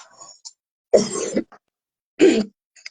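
Two separate bursts of coughing and throat clearing, close and fairly loud, with quiet gaps between and no talking.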